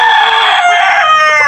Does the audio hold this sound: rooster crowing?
yes